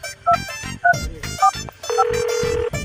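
A telephone rings with a repeating pattern of short electronic tones, ending in a longer, steady tone. The sound is close and clear, with no one talking.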